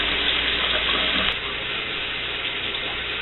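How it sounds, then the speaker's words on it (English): Very hot tap water running over a container of liquid malt extract for home-brewed pale ale, a continuous hissing splash that softens slightly after a brief knock partway through. "Now would be a good time to put your liquid extract under very hot water."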